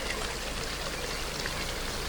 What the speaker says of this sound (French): le ruisseau glissant entre les pierres